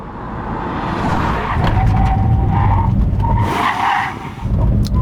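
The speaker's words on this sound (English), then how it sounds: "I'm going to do a brake test from 60 miles an hour." An Audi S8 brakes hard from 60 mph, its tyres skidding and squealing loudly and continuously for several seconds, close and dominant, with engine and road noise underneath.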